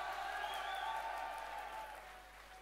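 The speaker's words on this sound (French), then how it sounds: "Applaudissements s'il vous plaît pour l'ENIM." Applause from an audience, a steady wash of clapping that slowly fades, heard at a moderate distance.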